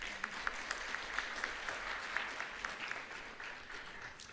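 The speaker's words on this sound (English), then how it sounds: "I thought that deserves a round of applause." A graduation ceremony audience at a Faculty of Commerce session claps in sustained, even applause, moderately distant in a large hall, fading slightly toward the end.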